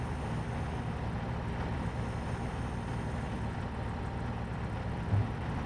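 A truck engine in the survival game Mist Survival drones in a continuous, fairly loud broadband rumble that holds steady throughout with no speech over it.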